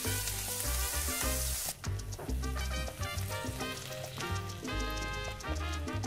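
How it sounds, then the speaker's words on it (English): Tomato sauce hits cooked mushrooms in a hot pan with a bright, loud sizzle that hisses steadily for several seconds over background music. "once the mushroom is also cooked, we can add our tomato sauce."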